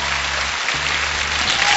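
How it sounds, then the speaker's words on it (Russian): Studio audience applause on a TV game show after a super-game win, a dense, steady wash of clapping that carries on throughout, fairly loud and close, with a faint voice briefly underneath. "Эти аплодисменты вам!"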